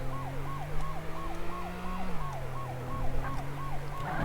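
Police car siren in the video game Flashing Lights wails in a steady repeating up-down cycle, loud and close over a low engine drone, with no talking.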